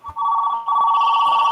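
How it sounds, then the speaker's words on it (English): A telephone rings with an incoming call, a steady electronic ringtone tone sustained loud and close throughout, with a brief soft thump at the start and no talking. "Somebody's getting a phone call and it's not me."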